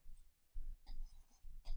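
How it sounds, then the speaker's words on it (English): Chalk or marker writing on a board in a classroom lesson produces short scratchy strokes in irregular bursts with pauses between them, close and fairly quiet, with no voices. "Let's write our old SOHCAHTOA up here."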